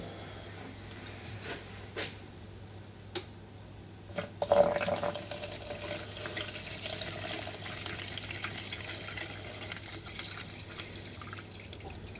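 Water running and trickling into a container to make about a litre of copper sulphate etching solution, a steady faint wash of flow with occasional drips and clinks, no talking.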